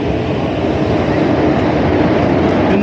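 A moving passenger train roars steadily from inside a small, crowded compartment packed with about 80 travellers on the way to Arunachalam temple in Tamil Nadu, with a dense, unbroken rumble and faint background murmur.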